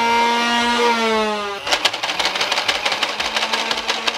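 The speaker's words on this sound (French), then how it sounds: "les bruits des moteurs de ça font quand même un sacré boucan" The motors of a Nerf Elite 2.0 Double Punch blaster whine with a rising tone, then break into a rapid, rhythmic rattle of whirring and clacking as it fires quickly, loud and close.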